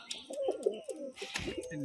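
A pair of fancy pigeons coos in low, throaty, rolling calls, close by and fairly soft, with a few brief sharper sounds in the second half.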